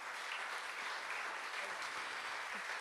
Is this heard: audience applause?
yes